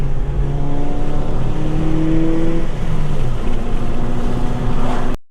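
A turbo diesel tow truck engine runs loud and close in a steady, heavy drone. Its pitch climbs, then eases back down, with no voices.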